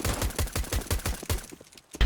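Rapid bursts of gunfire ring out in a video game as shots are fired into the ground, a quick rhythmic volley of sharp cracks that pauses briefly before one more loud shot.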